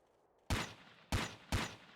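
Three sharp rifle shots from the Ghost Recon video game in first-person view, each a loud burst with a quick decaying tail, spaced about half a second apart.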